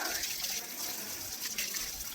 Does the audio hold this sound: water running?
yes